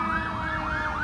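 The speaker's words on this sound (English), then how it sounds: "there's a fire engine riding by" Fire engine siren wailing as the truck rides by, a steady loud rising-and-falling tone heard alone over low traffic rumble.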